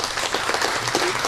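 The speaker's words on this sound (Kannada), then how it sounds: "ನಮ್ಮ ಕಂಟನ್ ಕುಂಟೆಯವ್ರಿಗೊಂದು ಜೋರ ಚಪ್ಪಾಳೆ ಬೇಕು" Loud, dense applause from an audience at the inauguration of a Kambar theatre festival, a brief steady burst of many hands clapping.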